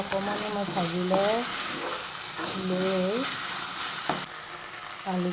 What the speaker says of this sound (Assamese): এইখিনি অকণমান মই ভাজি লৈ